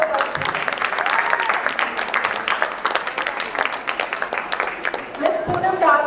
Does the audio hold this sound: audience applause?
yes